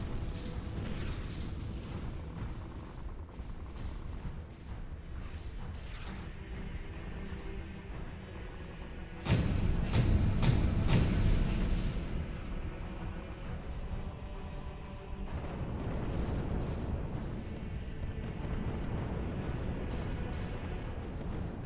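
Artillery fire and explosions in a Halo video game: a low rumbling battle backdrop with a heavy booming blast partway through, followed by scattered sharp pops and distant detonations.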